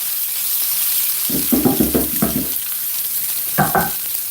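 Chipolata sausages, also called Cumberland, frying in a pan, with a steady background sizzle and a few louder bursts of spitting and stirring near the start and again toward the end.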